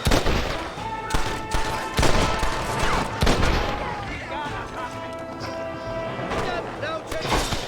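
Gunshots from the video game Red Dead Redemption fire from a clifftop, heard as loud, dense volleys of overlapping shots with sharp cracks near the start and middle, mixed with game sounds and a voice talking.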